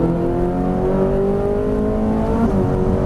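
A Ferrari 458 Italia engine drones loudly and steadily, its pitch rising as it accelerates, heard from inside the car on a track.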